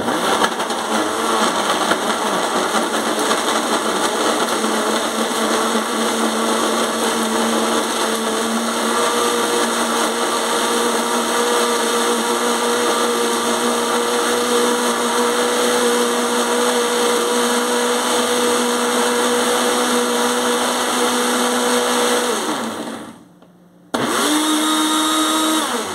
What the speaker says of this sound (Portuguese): agora nós vamos liquidificar isso